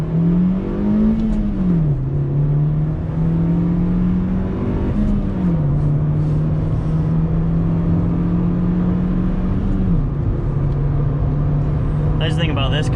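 A Honda Fit GD3 hatchback accelerates hard on the road, its engine note climbing through the gears with brief dips at each shift, loud and close inside the cabin while a driver talks over it.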